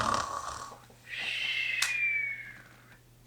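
A voice imitates a bear snoring during a children's story reading, a slow rasping inhale-and-exhale snore rising into a long whistling tone, quiet and close with no speech.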